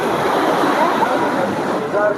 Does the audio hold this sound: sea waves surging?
yes